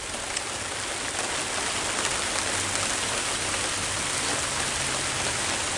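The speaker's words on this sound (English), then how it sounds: "Now it's just raining." Steady rain falls outdoors during a November storm, a dense, even hiss of drops pattering on surfaces, close and constant with no voices.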